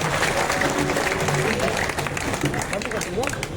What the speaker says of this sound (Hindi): मैं चाहता हूं कि भिंड के जाबाजों की जोरदार तालियों से उनका स्वागत हो।